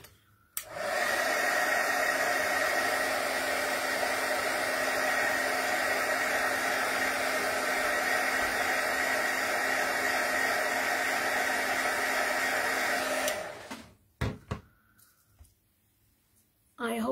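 Hair dryer blowing on a small craft piece, a loud steady whoosh running for about thirteen seconds, then cutting off abruptly, followed by a few clicks and light handling noises.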